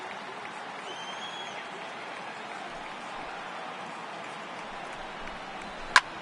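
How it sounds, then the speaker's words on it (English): A large baseball stadium crowd at a Braves vs Dodgers postseason playoff game roars and applauds in a steady, dense wash of noise, ending with a sharp loud crack near the close. "Try and silence this crowd."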